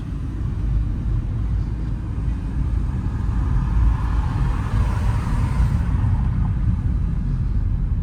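Steady engine drone from inside a car accelerating in second gear during a driving test, a continuous low rumble with no talking.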